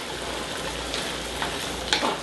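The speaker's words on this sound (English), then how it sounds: "you want to put it in there and then watch it melt along the side of the wok here" Palm sugar melting against the side of a hot wok for Thai massaman curry, a dense continuous sizzle and hiss with a few brief louder crackles near the end, no voices.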